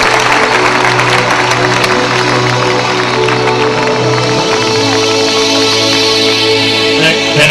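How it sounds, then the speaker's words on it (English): A church congregation at a Kenyan crusade with Prophet Dr Owuor in Kakamega claps to the Lord, a loud, dense, continuous roar of applause over sustained music. "Let us clap to the Lord as she leaves"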